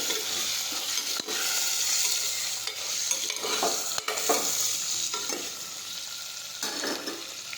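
Chopped parwal (pointed gourd) sizzles steadily in a hot pan, a close continuous frying hiss with periodic scraping strokes as the sabzi is turned.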